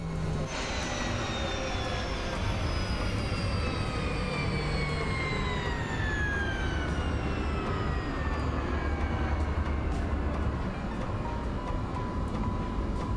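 Black Square Caravan turboprop in MSFS 2024 spinning down after shutdown, a loud steady roar with a high whine that slowly falls in pitch as the propeller feathers and the engine winds down.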